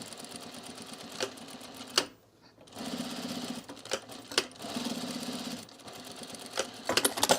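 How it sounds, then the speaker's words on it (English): Sewing machine back stitching a chunky belt loop on trousers, close and clear, running in several short rapid bursts separated by brief pauses. "when I get to the middle here, I'm going to back stitch again"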